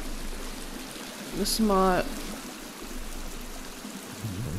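Waterfall in the video game The Forest, a continuous rushing wash of water underneath, with a brief sharp chirp-like effect and a short spoken remark partway through.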